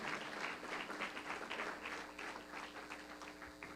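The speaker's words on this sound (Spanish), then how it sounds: "Dale un fuerte aplauso a Dios." A church congregation applauds at a service, a dense, steady round of many hands clapping through the whole stretch, moderately distant and without distinct voices.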